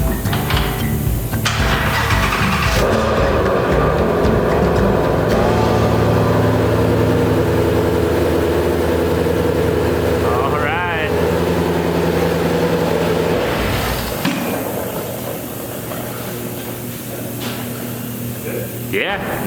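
A rebuilt 2016 Ford Mustang GT350R V8 fires up after an engine oil leak repair, a loud crank and roar settling into a steady rumbling idle that drops slightly toward the end.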